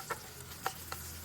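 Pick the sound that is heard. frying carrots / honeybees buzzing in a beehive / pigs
frying carrots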